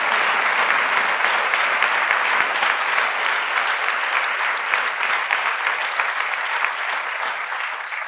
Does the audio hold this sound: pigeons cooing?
no